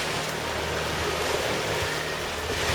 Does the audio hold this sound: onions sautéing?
no